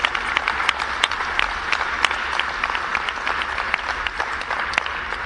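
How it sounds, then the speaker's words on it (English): An audience claps for panelists at a civil society and HIV advocacy event, a sustained round of applause with sharp individual claps over dense clapping, fairly close and lively. "I would like us to give another round of applause to the panelists"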